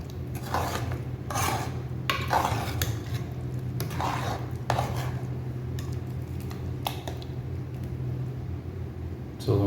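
A spoon stirs dal kulambu with drumstick leaves in a metal pot, giving repeated scraping and clinking strokes over a steady low background hum, with no voices.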